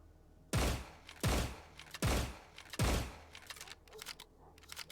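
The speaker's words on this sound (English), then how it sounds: "The MP133 is 80 shots a minute. This is a pump action shotgun." An MP133 pump-action shotgun fires four loud, booming shots in a video game, spaced about three quarters of a second apart. Each blast is followed by a brief mechanical clatter, and lighter handling clicks come after the last shot.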